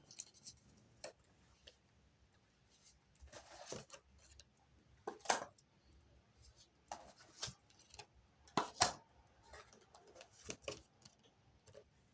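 Deck of tarot cards shuffled and riffled by hand indoors, soft irregular flicks and slaps close by in short bursts with quiet gaps between.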